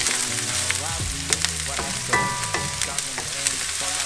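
Chopped onion and minced garlic sizzle and fry in avocado oil in a skillet, a steady loud crackle with stirring clatters and occasional utensil knocks, no voices.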